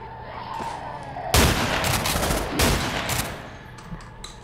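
A loud shotgun blast in the video game Underhell, followed by a second heavy shot about a second later, rising over a quieter game background.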